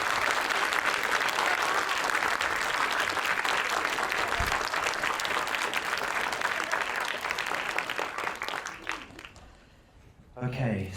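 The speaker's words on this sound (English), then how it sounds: "let's give a big round of applause to these amazing creatives" A big round of applause fills an awards-night hall for a group of creatives, dense and sustained for about nine seconds before thinning and fading, with a brief swell near the end.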